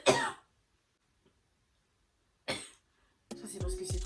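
A woman coughs in two separate short bursts with a quiet pause between them, close and clear, and she starts talking right after.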